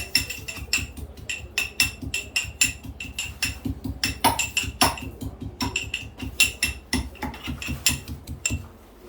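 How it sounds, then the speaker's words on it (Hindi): Ginger pounded in a mortar for morning tea, a rapid, steady series of sharp, hard thuds with metallic clinks, close and loud, continuing for several seconds with no talking. "ये अदरक कुट रहा है"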